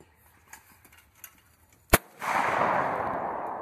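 A single sharp shotgun blast rings out at a sporting clays course on Hollywood Farms, a loud crack standing alone after quiet, followed by a long broad wash of wind or rustling noise.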